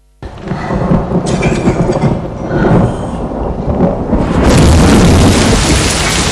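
Heavy rain pours around a parked car, a dense continuous roar with rumbling low tones that swells louder toward the end, with no voices.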